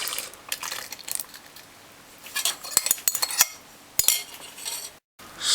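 Banana fritter batter stirred in a bowl, with a spoon clinking and scraping against the sides in irregular taps and soft wet swirls, close and moderately loud, briefly cutting out near the end.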